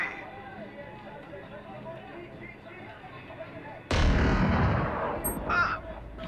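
Gunfire in a multiplayer video game: a single loud sharp burst cuts in abruptly and rings out over several seconds, followed by a shorter crack, set against quieter game ambience with voices talking.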